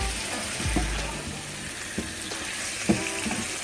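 Chicken frying in a karahi, a steady sizzle with occasional scraping and clinks of a spoon stirring the meat, close and continuous with no talking.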